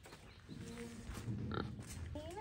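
A big pig at an animal sanctuary gives a few low, close grunts, including a louder burst near the middle, amid soft background noise and a voice talking briefly near the end.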